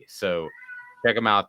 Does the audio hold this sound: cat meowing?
yes